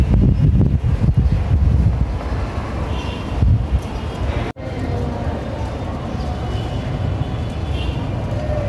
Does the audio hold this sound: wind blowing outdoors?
yes